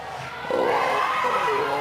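A home crowd at a women's under-20 football match between Namibia and South Africa swells into loud, sustained cheering and shouting, a dense wash of voices from the stands with no clear single speaker.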